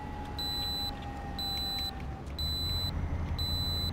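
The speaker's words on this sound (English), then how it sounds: "Retarder's quite loud." Steady low engine-retarder drone from a 2018 Volvo VNL truck in American Truck Simulator, a constant rumble running throughout with a repeating electronic warning beep sounding four times over it.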